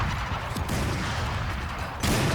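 Rapid grenade blasts in the Valorant shooter, a dense dull rumble of repeated explosions filling the whole stretch, with a louder burst near the end.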